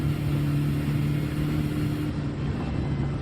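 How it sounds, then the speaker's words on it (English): Onboard view of a race car at full throttle in a sim race of the Nürburgring 24h, giving a steady sustained engine drone at constant pitch that stays loud throughout, with no voices over it. "This is how you drive full throttle over here."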